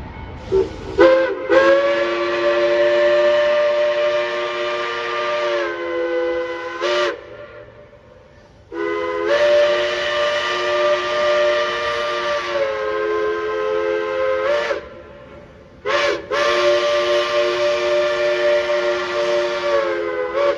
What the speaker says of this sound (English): 1309 was equipped with the whistle of Pennsylvania K-Class number 1361, another locomotive being restored to operation. Here is what she sounded like with it.